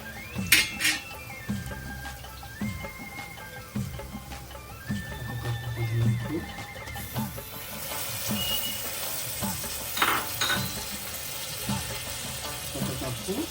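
Browned onions with coriander fry in a pan for Andhra mutton biryani, a steady close sizzle with occasional clinks of a utensil against the pan and faint talk.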